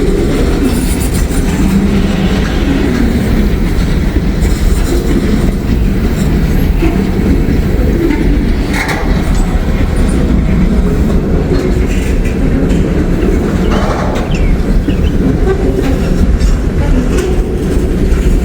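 A freight train rolls past in Wyoming, a loud sustained rumble of railcars with rhythmic clickety-clack and occasional faint wheel squeal, continuous for the whole stretch without any voices.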